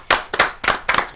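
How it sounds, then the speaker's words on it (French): A small studio audience on a French talk show gives a short burst of clapping, four distinct quick clusters of hand claps, close and fairly loud, with no talking. "D'accord, merci de l'applaudir."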